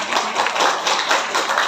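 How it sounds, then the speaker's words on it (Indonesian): Audience applause at a school principals' guidance meeting, a dense steady patter of many hands clapping together, loud and close, continuing throughout without pause. "Tepuk tangan."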